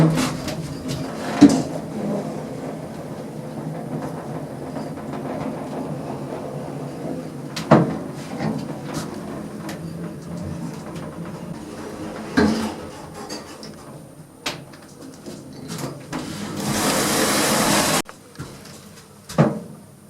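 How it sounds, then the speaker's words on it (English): A 1980s Spanish swing-door lift in a Madrid building runs with a steady low mechanical hum, punctuated by several sharp clunks and bangs of doors and machinery, plus a brief hissing burst near the end. "a building nearby, which has a 1980s Spanish swing door lift"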